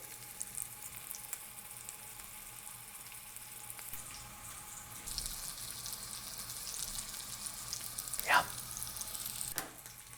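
Steak searing in olive oil in a hot pan for a steak sandwich: a soft, steady sizzle throughout, with one sharp clank near the end.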